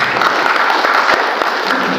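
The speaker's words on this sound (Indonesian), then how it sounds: "Tepuk tangan ke Apindo." A hall full of Indonesian union and employer delegates bursts into dense, loud applause, a continuous wash of many overlapping claps sustained evenly from start to finish with no voices on top.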